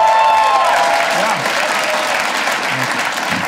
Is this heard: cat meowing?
no